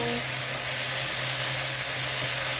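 Okra fries in a frying pan while being stirred, giving a dense, continuous sizzle close up with a faint steady hum beneath it.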